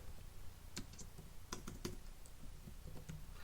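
Quiet typing on a computer keyboard, a scattered series of light key clicks and taps at an irregular pace, close but faint, with no voices.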